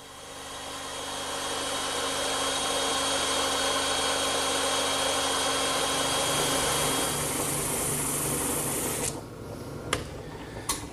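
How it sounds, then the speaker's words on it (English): A bandsaw cuts a curved wooden rail for a 2x4 garden bench, a loud, steady whining drone that holds for about nine seconds before the blade clears the wood and the motor winds down with a few clunks. "and that's another job for the bandsaw."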